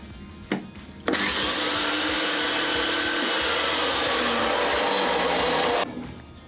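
A router mounted in a router table whines loudly at high speed for about five seconds, switching on abruptly and winding down at the end, with no voices.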